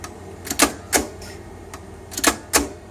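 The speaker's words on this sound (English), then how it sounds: "It must be really sharp because it's quite easy to punch through those cards." A Wright Line 2629 alphameric manual card punch punching holes in a card, heard as five sharp, close mechanical clunks in two loose groups, with quiet pauses between the strokes.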